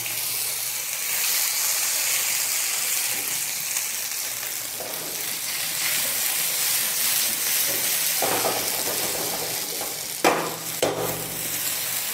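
Boiled potatoes frying in hot oil in a pan over high heat, a steady close hiss and sizzle with a few brief stirring clanks near the end.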